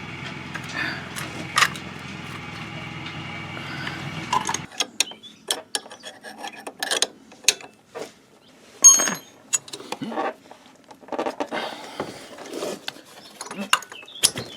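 Socket wrench with ratchet turning on a Yamaha YBR motorcycle camshaft, a close series of sharp clicks and ratcheting bursts after a stretch of low mechanical hum.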